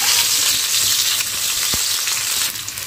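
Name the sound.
tomato frying in oil with bitter gourd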